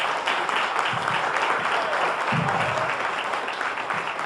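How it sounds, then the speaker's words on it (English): A church congregation claps hands in praise during a sermon, a dense, steady burst of applause that fills the room and holds at an even level from start to finish. "give God a hand clap of praise."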